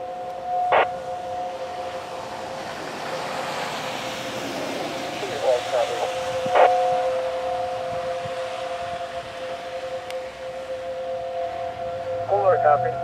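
A Federal Signal 508-128 outdoor warning siren in Sheboygan, Wisconsin, malfunctioning, holding a steady, wavering distant tone with a few brief tonal bursts, heard over radio-style background hiss and faint talk.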